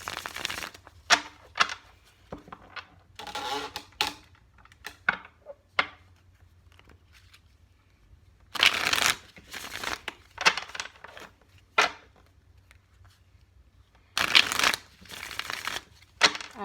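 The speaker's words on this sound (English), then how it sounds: "Let's go ahead and shuffle the cards." Tarot cards are shuffled in repeated crisp, riffling bursts separated by short pauses, close and fairly loud, with occasional soft taps between.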